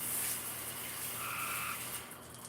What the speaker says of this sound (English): I'm gonna wash this cleaning board up